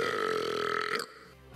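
A long, loud, droning burp from a drunk cartoon character, lasting about a second before cutting off into quiet, with no talking over it.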